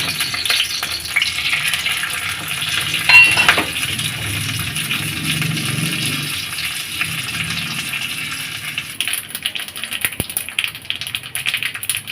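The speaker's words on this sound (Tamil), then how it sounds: "நல்லா தாளிப்பு கொடுத்தாச்சு நல்லா கடுகு வெடித்தாச்சு" Steady crackling and spattering sizzle of mustard seeds popping in hot ghee, with a few sharper pops and faint stirring, no voices.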